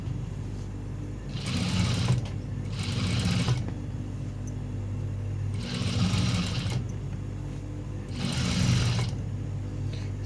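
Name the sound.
sewing machine stitching fabric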